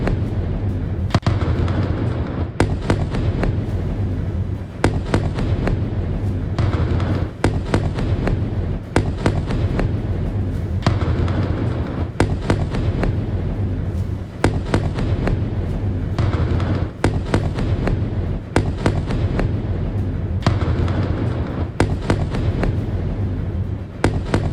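Rapid, repeated heavy blasts and booms go off in dense irregular bursts, echoing over a constant low rumble, with no talking.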